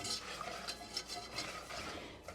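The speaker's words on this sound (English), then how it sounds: "I'm going to stir that up to combine" Rose petal jam mixture being stirred in a pan with a silicone whisk, a faint close-up rhythm of soft scraping strokes repeating about every quarter second.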